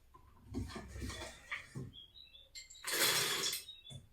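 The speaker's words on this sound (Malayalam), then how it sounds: "നമുക്ക് ആദ്യം നമ്മളെ അണ്ടിപ്പരിപ്പ് ഒന്ന് ചതച്ചെടുക്കാം ചെറുതായിട്ട്" Cashew nuts being coarsely crushed give off a few close, crunchy cracking and grinding bursts separated by brief pauses, with a louder, rougher crunch near the end; fairly quiet overall.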